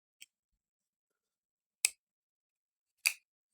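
Liner lock of a CIVIVI Baby Banter 2 folding knife clicking, three sharp, isolated clicks spaced over a few seconds, the first very faint and the later two crisper and louder, with silence between.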